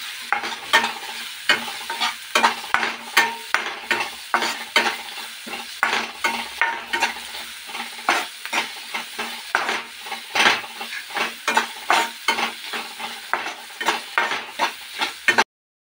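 Finely chopped onions frying in oil with salt, a continuous loud sizzle under rapid rhythmic stirring and scraping of a spoon against the pan, close up with no voices.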